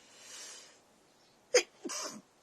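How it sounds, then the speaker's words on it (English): A single person sneezes close up: a soft breathy intake, then a sharp explosive burst followed by a short trailing exhale, in an otherwise quiet room. "I feel a sneeze coming on."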